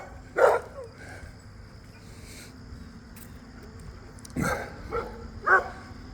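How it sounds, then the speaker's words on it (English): Puppies on a farm yelp, bark and whimper in a few short bursts, fairly close, over steady insect and cricket chirping in the background. "Look at you puppy dogs. All that noise they're making."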